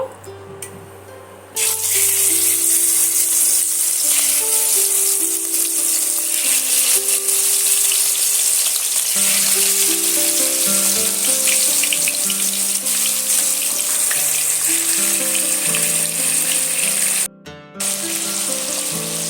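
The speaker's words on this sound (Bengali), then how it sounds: "এবার আমি তেলের মধ্যে দিয়ে আমি অল্প অল্প করে ভাজা করে নেব" Marinated chicken pieces for chicken kosha drop into hot oil and fry with a loud, steady sizzle that continues almost unbroken, accompanied by background music.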